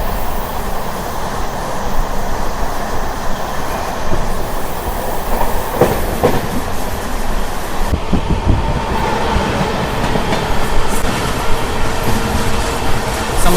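Onboard the Amrit Bharat Express as it runs through a curve, a continuous loud rumble carries rhythmic clickety-clack of wheels over rail joints, with brief squeals and a sudden shift in the noise partway through.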